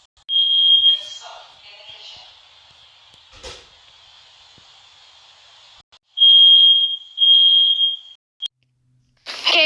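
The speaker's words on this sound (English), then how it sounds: "I'm gonna be setting off this, the Nest Protect" A second-generation Google Nest Protect smoke alarm gives a high piercing beep, then a long quieter stretch with a thud, followed by two more shrill beeps and a brief burst at the end.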